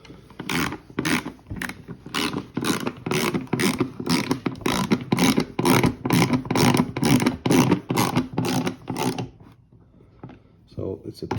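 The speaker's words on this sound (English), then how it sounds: "TX10 Torx Head that we need to screw these small screws back in" Small TX10 Torx screws being driven back into a Porsche 997 cup holder, giving a steady run of quick, close ratcheting clicks for about nine seconds before they stop, with a faint voice underneath.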